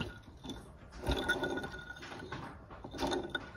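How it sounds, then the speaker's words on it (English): A worn air conditioning compressor pulley on a flood-damaged Porsche 968 spun by hand, giving quiet grinding, ratcheting mechanical rasps in a few uneven bursts, close up. "if I go onto this air conditioning pulley, listen to this"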